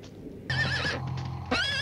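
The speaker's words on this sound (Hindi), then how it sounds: "तुम दूसरा घोड़ा लेकर जाओ, मैं प्रिंस को धीरे धीरे लेकर आता हूँ।" A horse whinnies loudly twice, a long shrill neigh followed by a second one after a short pause, close by.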